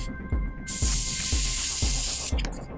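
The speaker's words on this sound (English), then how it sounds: "I'm going to be spraying a light coat of white primer" Light coat of white primer sprayed from a can onto a taped-off miniature Carcharodons Storm Talon model: a steady, loud hiss lasting about two seconds, with faint rhythmic tapping underneath and short spurts before and after.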